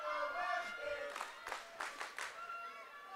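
Lively crowd noise at a high school championship hockey game, with bursts of cheering and clapping rising and falling under a commentator's steady talk.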